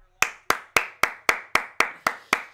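Hands clapping alone, ten sharp, evenly spaced claps at a steady, deliberate pace, close and crisp with short decays and no talk.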